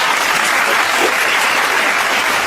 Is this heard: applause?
yes